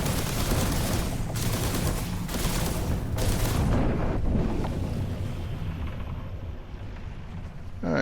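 Rapid automatic gunfire from a magazine of slam rounds in The Last Caretaker bursts loudly for several seconds, then cuts off and leaves a windy, rumbling ambience. No one speaks.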